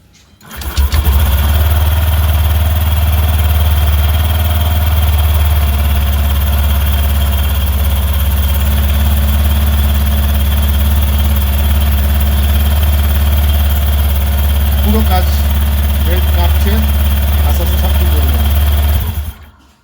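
A Honda Activa 125 BS6 scooter starts and settles into a loud, steady idle close by. The engine hums evenly for nearly twenty seconds before cutting off.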